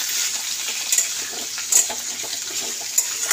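Chopped vegetable stems frying in oil in a pan for a Bengali vegetarian dish, a steady hiss and sizzle with a few sharp scraping bursts as they are stirred.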